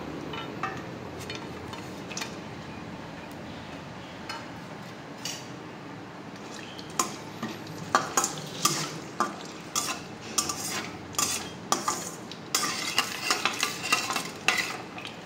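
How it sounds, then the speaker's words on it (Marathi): Dry fruits roasting in ghee in a pan for rice kheer. Quiet sizzling is broken by a spoon scraping and clinking against the pan, and the stirring grows busier and more rhythmic toward the end. "सुरुवातीला आपण यामध्ये तुपामध्ये आपण आपले ड्रायफ्रूट व्यवस्थित भाजून घेणार आहोत।"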